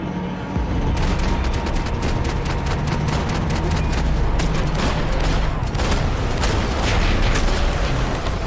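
Rapid bursts of gunfire in Max Payne 3, sharp repeated shots piling into a dense, loud barrage with booming impacts throughout, continuous and close.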